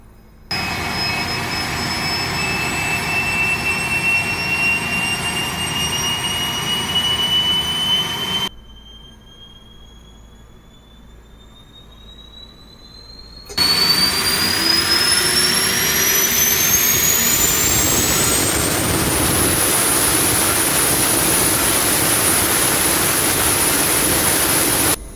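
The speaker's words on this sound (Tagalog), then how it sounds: "we're starting the APU of a McDonnell Douglas DC-9" An auxiliary power unit on a McDonnell Douglas DC-9 spins up: a loud steady turbine roar with whining tones that rise, a brief quieter lull midway, then a louder whine climbing to a high sustained pitch.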